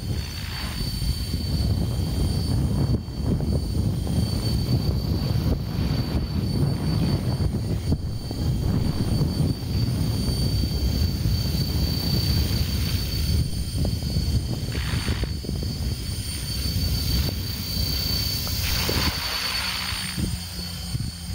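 A helicopter heard with its tail rotor turned away from the listener, a loud continuous low rotor roar with turbine whine steady throughout, no talk.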